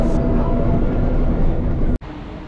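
A train rumbles at a railway station in Malaysia with a loud, steady, broadband roar that cuts off abruptly near the end before a quieter rumble resumes.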